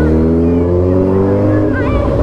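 A Suzuki Hayabusa motorcycle accelerates hard with a passenger aboard, its engine note rising steadily and loud over about two seconds.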